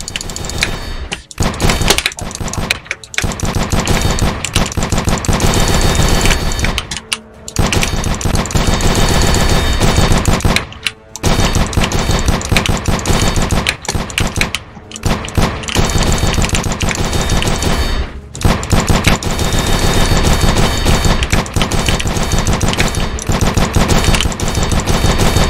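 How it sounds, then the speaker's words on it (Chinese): Sustained rapid gunfire from the shooter training game Aim Lab, loud and dense with machine-gun-like bursts broken by a few brief pauses, no voices. "疯狂射击"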